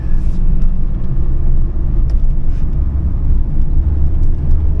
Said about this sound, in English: Still got quite a bit of that sound from those winter tires